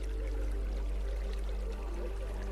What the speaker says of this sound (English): The drizzle of water.